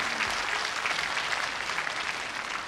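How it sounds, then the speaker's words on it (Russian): A studio audience on the Russian TV game show Zvyozdny Chas claps loudly and continuously for a few seconds, a dense, even wash of applause with no pause. "Аплодисменты Андрею"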